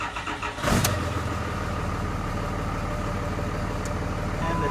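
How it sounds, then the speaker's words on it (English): A diesel truck engine with a VP44 Cummins swap, fitted with a PATS security system, cranks briefly and catches, then settles into a loud, steady rumbling idle up close. "It's gonna be a quick crank and shut down."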